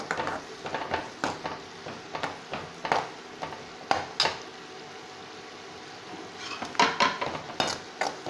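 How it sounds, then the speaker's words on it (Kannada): A metal spoon scrapes and clinks around a pan while homemade turmeric powder fries, in a repeated stirring rhythm of close, fairly loud knocks over a faint background. "ಇದಿಷ್ಟು ಫ್ರೈ ಆದರೆ ಸಾಕು"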